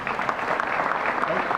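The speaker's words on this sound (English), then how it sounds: "Another round of applause, ladies and gentlemen." Audience applause fills a banquet hall at a state coaches association awards dinner, a brief steady wash of clapping heard up close with no pauses.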